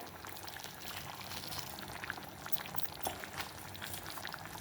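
A spicy potato and green pea curry bubbles as it boils in a pan, with continuous close popping and gurgling and small irregular bursts throughout.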